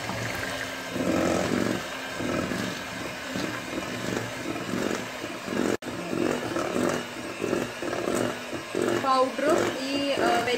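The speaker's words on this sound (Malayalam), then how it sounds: "ഇനി നമുക്ക് ഈ മിക്സ്ചറിലേക്ക് വെറ്റ് ഇൻഗ്രീഡിയൻസ് എല്ലാം ആഡ് ചെയ്ത് നന്നായി ബ്ലെൻഡ് ചെയ്ത് കൊടുക്കാം" A motorized blender or mixer whirs steadily and loudly throughout, blending red velvet cupcake batter with the wet ingredients, with a brief interruption midway.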